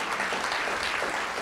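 Dense, steady applause from a gala audience gathered to thank sponsors, many hands clapping at once at an even level across the whole stretch.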